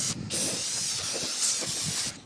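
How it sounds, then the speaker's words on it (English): Cleaner sprays in a continuous loud hiss onto a rear brake part of a 2004 Chevy Avalanche, with a brief pause early and the spray cutting off at the end. "I'm just gonna spray it to remove all that stuff."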